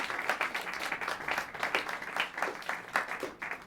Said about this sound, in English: Give a round of applause to your outstanding students.